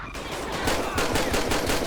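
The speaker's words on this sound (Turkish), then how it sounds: "Ne oluyor oğlum her yerden ateş sesleri geliyor." Rapid gunfire in GTA 5 during a police patrol shootout, dense overlapping bursts of automatic shots crackling continuously and fairly loud, with no talk over them.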